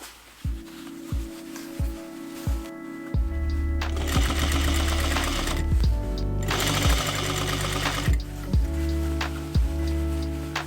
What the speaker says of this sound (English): you can understitch by pushing the seam allowance to the sleeve facing side